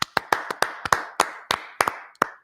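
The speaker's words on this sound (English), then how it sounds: "Clap it up for Brotherhood class." A few people clap in a sharp, uneven rhythm for a Brotherhood class meeting, roughly a dozen distinct, crisp hand claps spaced out over a couple of seconds, close and dry with no talk.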